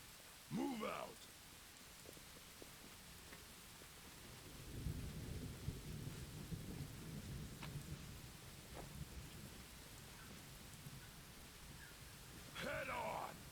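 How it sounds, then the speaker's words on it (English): Steady rain with a rumble of thunder in the fantasy game Pathfinder: Wrath of the Righteous, a continuous wash of rainfall with low rolling thunder in the middle and brief voices at the start and end. "Of course it's raining blood."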